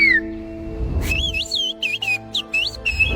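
A person whistles in a traditional whistled language, sending a rapid run of loud, close, sliding and warbling tones, broken into short phrases after an opening held note.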